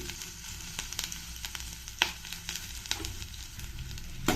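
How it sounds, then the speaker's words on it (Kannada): A spoonful of cumin seeds fries in a spoonful of oil in a pan for a Karnataka bassaru, giving a steady close sizzle with scattered crackles and no voices. "ಇದನ್ನು ಸ್ವಲ್ಪ ಫ್ರೈ ಮಾಡ್ಕೊಳ್ಳೋಣ"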